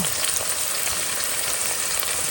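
Bay leaf, onion and ginger frying in a pan, giving a loud, continuous close-up sizzle with a crackling hiss and no talking.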